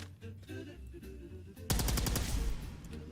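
A gun in Fallout 4 lets loose a loud, rapid burst of automatic fire that begins suddenly and keeps rattling up close for over a second, with faint game sounds ahead of it.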